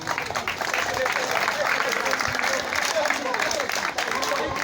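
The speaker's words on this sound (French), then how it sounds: "Il faudra les applaudir." Steady applause from a crowd at a scouts' reunion in Dagana fills the whole stretch, dense continuous clapping with a faint murmur of voices underneath.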